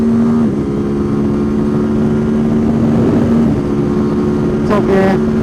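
Ducati SuperSport S motorcycle on Pirelli wets at Monte Blanco circuit, engine droning loudly as it pulls hard through the gears, with a quick rising upshift near the end.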